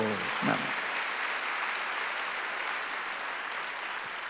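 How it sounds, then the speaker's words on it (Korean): A congregation claps during a Sunday church service, a steady, even wash of applause that stays fairly faint and distant, with a brief voice near the start. "박수 세게 치세요"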